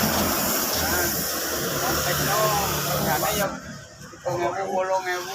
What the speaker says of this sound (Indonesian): kita semproti clear, kita saput bagian kiri kanannya ini